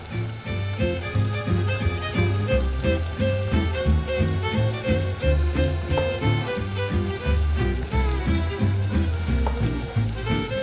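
Food deep-frying in hot oil while cooking cinnamon apples and goji berry broccoli, a steady crackling sizzle that carries on evenly throughout, close and fairly loud, without any talking.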